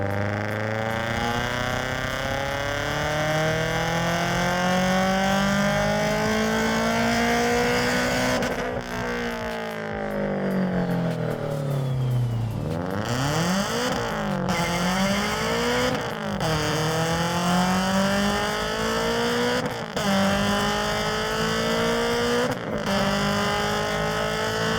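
A supercharged Subaru BRZ engine on a tuning run winds up to sustained high revs, drops off, then climbs again through repeated sharp rev swings and shifts, loud and close with no talking.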